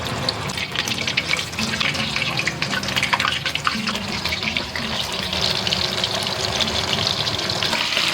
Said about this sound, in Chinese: 继续炸第2锅